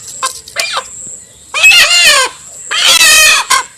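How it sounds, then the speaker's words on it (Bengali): A small rooster about to be slaughtered squawks and cackles up close in short, harsh bursts, two brief calls followed by two longer, louder outbursts with brief pauses between them. "ছোট মোটো একটা মুরগি, মানে মোরগ"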